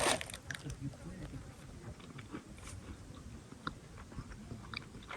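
Crunchy bites and chewing of an American frosted cracker, eaten outdoors in the desert at Joshua Tree National Park, close to the microphone with a steady rustle of background noise and no talking.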